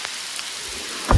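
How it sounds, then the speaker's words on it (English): Rain falls at a campsite in North Carolina's Great Smoky Mountains, a steady close patter on surfaces that swells into a louder burst of drops at the end. "Okay, it just started raining"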